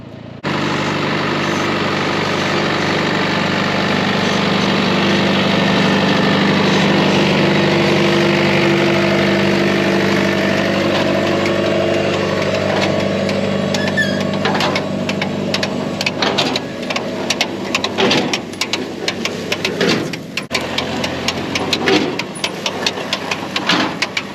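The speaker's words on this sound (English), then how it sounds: "this is an antique John Deere potato planter" An engine runs with an antique John Deere potato planter on a farm, a loud, steady idling drone that holds for over twenty seconds and turns rougher and more uneven near the end.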